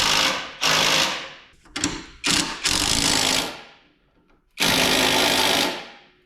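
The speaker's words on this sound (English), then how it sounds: "Tighten up this lower mount right here." A power tool drives the lower running board mount bolt on a Chevy Silverado during a Boost Auto LumaStep install, firing in four loud, close bursts of whirring and rattling separated by short pauses.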